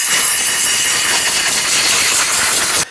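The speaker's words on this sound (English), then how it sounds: "use some compressed air and blow out around here, get rid of any dirt and debris" Compressed air hisses loudly and steadily for nearly three seconds, blowing dirt and debris away around the engine intake of a 2009-2017 Volvo XC60 with the 3.2L inline-six, then cuts off abruptly.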